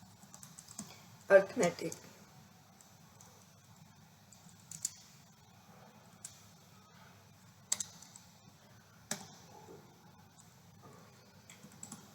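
A computer keyboard is typed on during a Hindi C++ programming lesson: a few sparse bursts of key clicks, close and fairly quiet, under a woman's speech.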